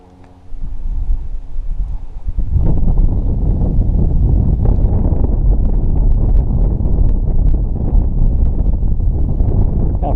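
Strong wind roars steadily across the microphone beside a weedy lake during a Sunday morning fishing outing, a loud, continuous buffeting rumble that rises sharply after a quieter first moment and stays unbroken to the end.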